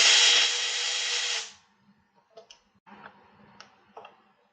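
A power tool whirs steadily for about a second and a half while loosening a screw on a Harley handlebar control, then stops, followed by faint scattered clicks and light handling sounds nearby.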